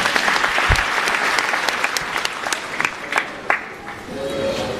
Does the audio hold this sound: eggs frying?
no